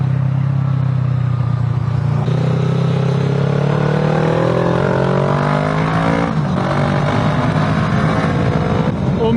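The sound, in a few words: motorcycle being ridden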